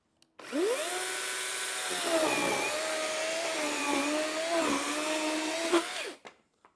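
Procraft PCA42/2 cordless chainsaw cutting on an 8 Ah battery, a loud continuous high motor whine with slight pitch dips as the chain bites into wood, starting and stopping abruptly.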